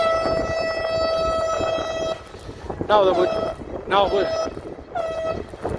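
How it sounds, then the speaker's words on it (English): A steady boat horn drones for a couple of seconds in downtown Chicago, then gives several shorter blasts while a voice talks over some of them. "There's another boat now blowing their horn."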